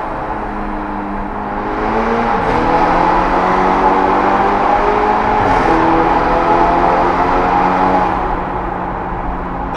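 A SEAT Ibiza Cupra with a Stage 2 tune, 230 hp, revs steadily with a throaty exhaust rumble, climbing in pitch around two and five seconds before settling back into a sustained drone.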